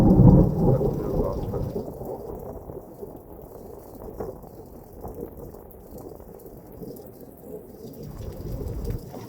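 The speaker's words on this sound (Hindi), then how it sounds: "अभी बिजली कड़केगी।" Heavy rain pours steadily in a jungle, heard from a sheltered veranda, with deep rolling thunder booming loudest at the start and rumbling again near the end.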